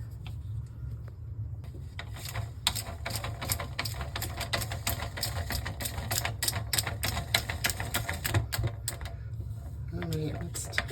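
Metal and plastic clicks and rattles from a faucet part being screwed back on under a bathroom sink, a dense run of small taps and scrapes over a steady low hum, close up with no voice.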